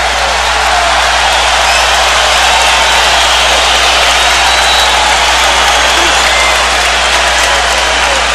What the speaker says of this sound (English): Crowd's very anxious to cheer, so they do so.